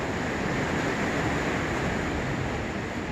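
A constant roar of sea waves and surf at Simgok harbor, a broad rushing wash that never lets up, heard without any voices.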